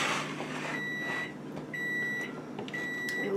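Microwave oven timer beeping in a home kitchen while fudge is made: three evenly spaced high electronic beeps over a hissy background.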